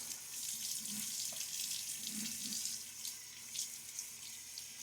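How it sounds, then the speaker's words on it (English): Water splashes and runs in a sink during a wet shave with a Gillette Nacet blade and a shaving brush, a soft, continuous hiss with small splashy bursts, fairly quiet and close. "Water splash."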